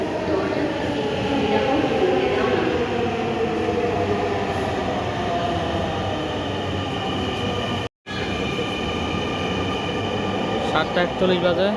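A metro train pulls out of the station with a loud, sustained rumble and rising motor whine that fill the platform, while voices and announcements sound faintly beneath.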